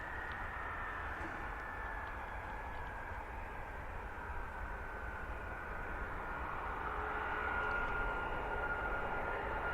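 An aircraft taxis at RAF Mildenhall, a distant, steady engine roar and whine with a broad rushing wash that swells slightly toward the end, heard alone with no talk.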